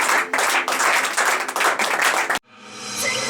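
A church congregation at a Sunday service claps and applauds together, a dense loud burst of many hands that cuts off abruptly, followed by quieter lingering room tone.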